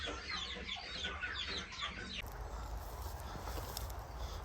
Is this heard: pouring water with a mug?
no